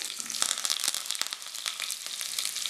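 Onions sizzling in hot oil with mustard seeds, a bright, continuous frying hiss with dense crackles and a few louder spits, close up and without talk.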